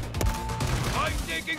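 Gunfire in a 6v6 match of the Modern Warfare 3 video game, a burst of rapid shots with a sharp early crack, layered over a dense, busy game mix.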